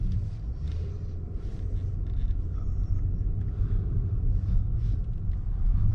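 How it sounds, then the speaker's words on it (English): A 2022 Maybach S580 with a V8 pulls away, heard from inside as a steady low engine and road rumble, muffled and continuous. "So we will be driving off now with the E8 cylinder beauty here."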